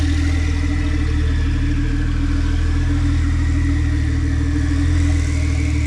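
A turbocharged Volkswagen Jetta wagon engine runs steadily at a low, throaty idle, loud and close, with a constant rumble and a faint whine on top, no voices.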